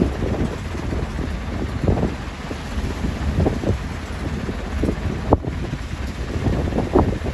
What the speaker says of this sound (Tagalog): Lakas ng hangin mga idol.